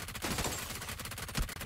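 Rapid enemy gunfire in PUBG battle royale, a dense fusillade of shots striking a wall close by, steady and continuous with a louder burst near the end, no talking.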